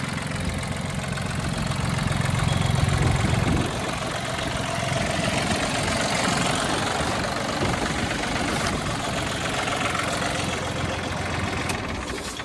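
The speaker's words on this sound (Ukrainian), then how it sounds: "двигунчик працює ідеально." A Japanese mini tractor engine runs steadily nearby, a continuous rattling idle with a low knocking rumble that barely changes throughout.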